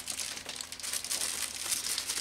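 A paper envelope is torn open by hand, a close, continuous crinkling and ripping for a couple of seconds.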